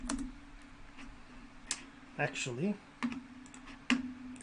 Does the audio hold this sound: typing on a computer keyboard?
yes